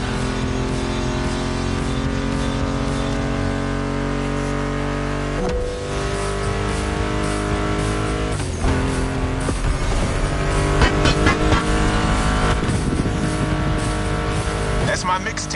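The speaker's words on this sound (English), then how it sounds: "Meshes well with the sound of the engines" Muscle car engines roar continuously in the racing game The Crew Motorfest, mixed under a loud music soundtrack with a dense harmonic drone and occasional revving swells.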